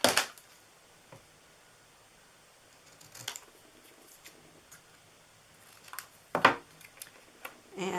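Scissors cut a paper piece for a DIY Christmas treat holder, giving a few short, crisp snips and rustles spaced apart, close and quiet.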